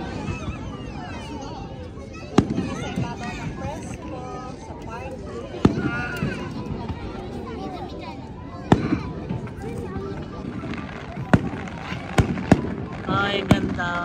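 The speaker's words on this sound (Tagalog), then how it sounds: "Yan na guys, nanonood tayo ng fireworks." Fireworks go off with sharp pops and bangs at irregular intervals at a matsuri festival in Tosu, Saga, Japan, a handful of bursts over a murmuring crowd and people talking nearby.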